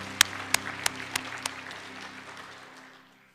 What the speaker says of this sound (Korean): 우리 부활하신 주님께 영광의 박수 올려드리겠습니다.